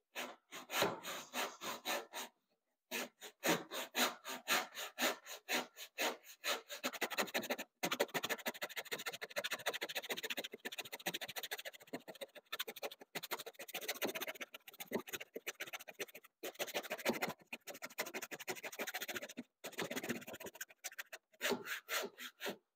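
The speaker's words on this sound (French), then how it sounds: "je pose ma lame. Et je viens commencer à couper." A saw blade cuts into wood in a long run of rhythmic back-and-forth strokes with rasping scrapes, close up, broken by a few brief pauses, with no talking.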